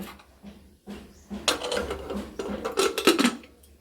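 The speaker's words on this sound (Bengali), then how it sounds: "এটাকে আমরা প্রেশার কুকারটাকে আমরা বন্ধ করে দেব" A pressure cooker lid goes on and is locked shut over peas set to boil, a short run of metallic clanks, scrapes and clicks close by, with no talk.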